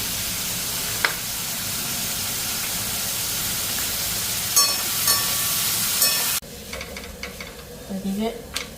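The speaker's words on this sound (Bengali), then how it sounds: "ফুলকপি ভাজতে গিয়ে দেখো কী করছি হলুদের মধ্যে ফুলকপি ফালাইয়া দিচ্ছি" Cauliflower frying in turmeric gives off a steady, loud sizzling hiss that runs on for several seconds, then drops to a quieter crackle with faint stirring clinks.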